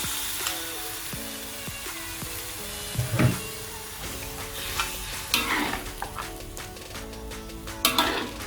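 Beef sizzles and fries in an iron wok for gulai, with a steady crackle. A spatula stirs and scrapes against the metal now and then, and near the end a few sharper clanks ring out. No one speaks.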